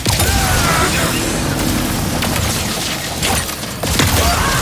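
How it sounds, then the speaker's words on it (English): Shatter Bomb frag grenades explode during Ratchet & Clank gameplay, giving a dense, continuous barrage of loud blasts and crashing debris with game effects layered throughout. "The Shatter Bomb is a frag-type grenade that deals a lot of damage to your foes."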